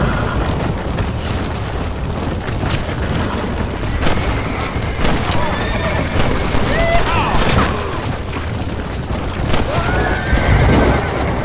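Horses in the Red Dead Redemption video game neigh and whinny loudly while hooves clip-clop at a gallop, with bursts of distant gunfire and game noise throughout.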